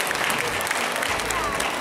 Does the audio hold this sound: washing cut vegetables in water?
no